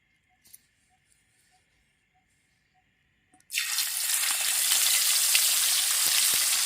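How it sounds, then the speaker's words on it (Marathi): Tilapia dropped into hot oil in a flat iron pan: after a few seconds of near silence with small clinks, a sudden loud, dense sizzle bursts in and holds steady. "तेल पण मस्त तापलंय. आता मासे टाकून घेते."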